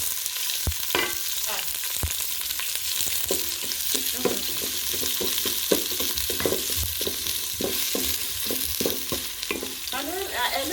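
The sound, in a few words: onions frying in a pot for bean stew curry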